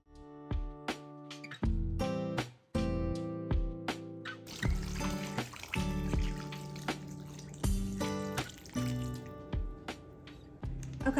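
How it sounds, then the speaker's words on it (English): Tap water runs into a metal pot for homemade chicken bone broth, with ringing, pitched splashes and drips that start and stop, then a steadier fill, close and fairly loud with no talking. "So I'm going to fill this up with water"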